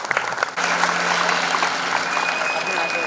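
Enthusiastic audience applause at a celebrity event, starting after a brief lull and swelling into dense, sustained clapping that fills the room steadily to the end.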